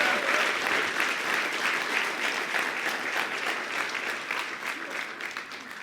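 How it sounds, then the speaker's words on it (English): A large audience at a business talk gives sustained, dense applause with many hands clapping together, loud and steady throughout, easing off slightly near the end. "Give yourself an applaud and a hand."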